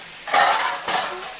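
A small plate set down as a lid over a pan of chicken fry, two bright clattering contacts about half a second apart, close and fairly loud with a brief ringing tail.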